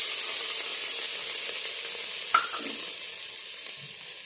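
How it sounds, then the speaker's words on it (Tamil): Onion dropped into a hot pan while cooking a vegetable filling for stuffed bread toast, giving a steady, close frying sizzle throughout with a brief clatter partway through and no talking. "வெங்காயம் சேர்த்துக்கணும்."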